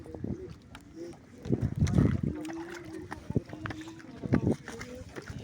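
A small paddled wooden bangka carries passengers, including students, across water to an island, with water and paddle sounds mixed under steady talking voices and some wind.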